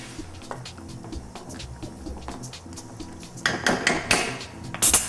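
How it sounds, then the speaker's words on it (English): A spoon stirs and crushes ingredients in a cooking pot, with soft scraping and knocking at first, then louder clattering and metallic clinks toward the end, close and alone. "Give it a nice little stir."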